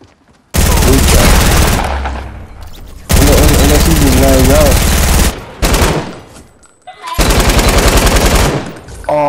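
Automatic gunfire in Fortnite pours out in long, loud, rapid bursts separated by short pauses, very close, with voices talking over the shooting.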